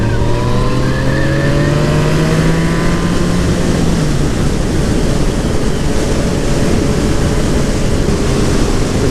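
Motorcycle engine accelerating after a downshift on an Everglades road ride, a rising engine note sweeping upward over steady loud wind rush for several seconds, with no talking.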